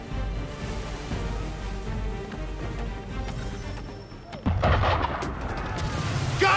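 Cannon fire from gunboats at a ship in Assassin's Creed III booms over a busy naval scene: scattered heavy shots, then a louder blast midway followed by dense crackling and rumble.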